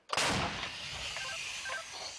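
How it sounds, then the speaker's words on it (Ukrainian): A single heavy howitzer blast booms out suddenly near Bakhmut, then a long rumbling echo rolls and fades across open ground. "От зараз тут досить гучно працює гаубиця."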